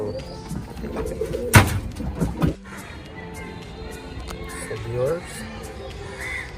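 Pigeons of one colour coo in a home loft, low soft calls scattered through the clip, with a sharp loud burst near the start and voices talking nearby.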